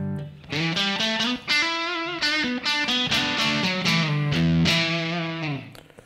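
Electric guitar through an Empress Germ Drive overdrive pedal with gain set just at breakup, playing a loud run of picked chords and arpeggiated notes with a slightly gritty, edge-of-distortion tone and no talking.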